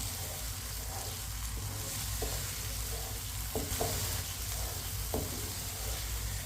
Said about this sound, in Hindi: अब इसे चम्मच चलाते हुए 3-4 मिनट के लिए भून लेंगे